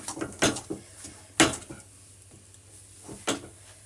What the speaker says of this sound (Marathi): पंधरा ते वीस मिनिट या डाळीला असंच भाजायचं आहे आपल्याला छान